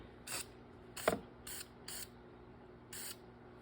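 Short hissing bursts from a spray can apply red paint to the valve covers of a 3rd-gen Toyota 4Runner engine, with four or five brief sprays spaced irregularly, plus one sharp click, all close and fairly quiet.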